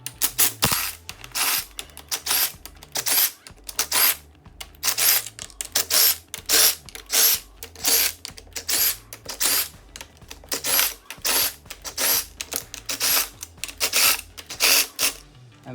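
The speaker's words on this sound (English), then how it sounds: "Then we get our impact or our drill," An impact wrench or drill backs out the bolts on a limited slip differential case, a long run of sharp repeated bursts of tool chatter with short gaps between them, close and loud.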